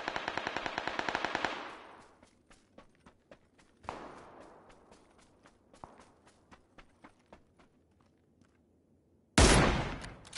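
Video game gunfire: a rapid burst of automatic shots, then single scattered shots and quick footsteps, ending in a sudden loud blast, all with no talk.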